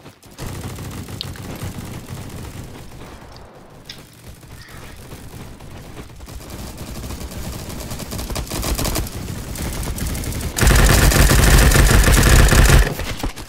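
Rapid gunfire in the online shooter Bad Business, a dense run of loud close-range bursts that swells near the end into a heavier, sustained volley.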